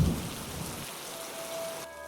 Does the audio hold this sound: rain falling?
yes